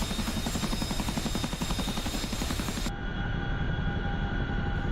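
A Chinook helicopter in the DCS flight simulator gives a loud, constant, rapid rhythmic beating from its twin rotors, with an engine drone underneath that continues after a sudden drop in brightness.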